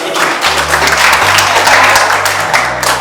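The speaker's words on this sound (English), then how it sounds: "let's give them a round of applause" Applause from a seminar audience at a climate youth conference, a steady dense wash of clapping that holds at an even level for the whole stretch, with a low hum running underneath.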